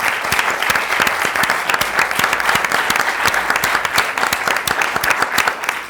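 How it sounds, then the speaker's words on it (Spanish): Audience applause for bagpipers at a Galician cultural presentation in an Ateneo hall, steady dense clapping from many hands that stays loud and even throughout. "Y un aplauso para ellos"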